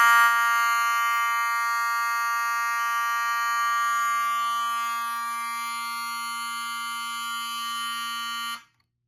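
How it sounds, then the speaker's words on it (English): A smoke detector on a fire alarm panel blares a loud, steady electronic alarm tone continuously with a harsh buzzing quality, then cuts off abruptly near the end. "Now for the smoke detector."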